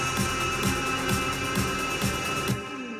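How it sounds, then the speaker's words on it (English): A dense electronic music track builds with reverse swells and rising riser effects over a steady pulsing kick, loud and continuous, thinning out briefly near the end. "you can hear some reverses and risers already immediately"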